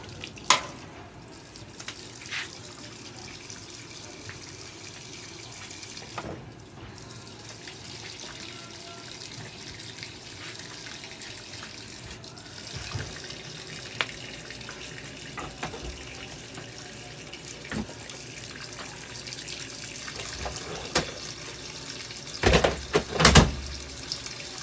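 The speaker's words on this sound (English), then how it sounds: "So we're gonna pour it on top of the towels." Liquid is poured onto a pile of towels, a soft continuous trickle and splash like a running tap, with occasional louder knocks and rustles toward the end and no talking.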